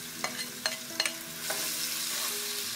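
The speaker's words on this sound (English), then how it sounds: "we're going to saute them just until the onions are translucent" Onion and garlic sauté in a pot with a steady sizzle, broken by a few quick stirring scrapes near the start, with no talking.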